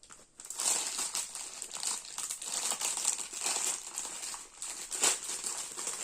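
Plastic packaging of a mandala diamond painting kit is opened and unwrapped, giving steady close crinkling and crumpling for several seconds with a few sharper rustles and no talking.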